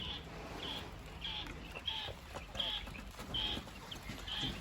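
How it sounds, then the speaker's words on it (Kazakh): Male quails call on a quail farm, a short high chirping note repeated at an even pace about every two-thirds of a second. The calls sound faint and distant over a soft background hiss. "Мынау әтеш қой деймін."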